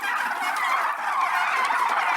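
Flock of turkeys gobbling at feeding time, a dense, loud, continuous chorus of overlapping gobbles close by with no voices.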